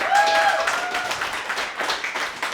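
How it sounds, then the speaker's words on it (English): Comedy show audience applauding and cheering, a dense roomful of clapping with a few whoops, steady and fairly close throughout. "So easy to get you to cheer"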